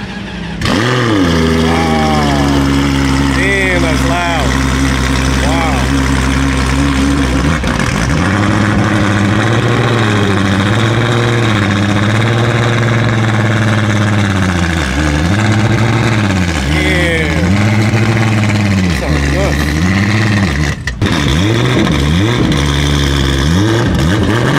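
A Ferrari engine at a Ferrari car show fires up loudly and close, then idles with a deep rumble and is revved repeatedly in rising and falling sweeps, with a crowd audible around it.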